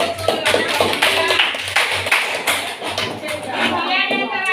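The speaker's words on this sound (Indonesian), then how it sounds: "Beri tepuk tangan untuk kelompok tiga." A junior high school class applauds group three with short rhythmic bursts of clapping, broken by pauses, while voices are heard between them.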